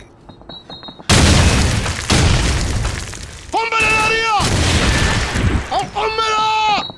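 A grenade explosion during a four-versus-four search and destroy match on the District map, a heavy boom with shattering debris, followed by loud voices talking over continued blasts and gameplay noise.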